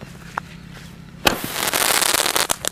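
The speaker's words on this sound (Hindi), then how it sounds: "क्रैकलिंग प्लस स्काई शॉट चला" A Diwali Iron Man sky shot firework fired outdoors, a sharp loud bang followed by dense, continuous close crackling and popping that keeps going to the end.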